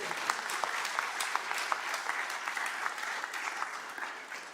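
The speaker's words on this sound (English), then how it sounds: "that's all right, we can clap for him." During a Delaware State of the State address, a hall audience applauds a mayor with steady, moderately loud clapping. Individual claps stand out over the wash of applause, which fades slightly toward the end.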